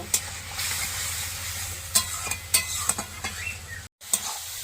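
Spice paste stir-fried in a pan for a Bengali rohu fish curry, a steady close sizzle punctuated by several sharp spatula scrapes and taps against the pan, with one brief cut near the end and no talk.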